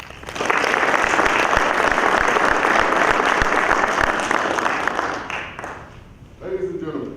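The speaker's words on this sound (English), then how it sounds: "give a round of applause" Sustained applause from a ceremony audience at a military service celebration, loud and dense for about five seconds, then tapering off, with a brief burst of voices or sound near the end.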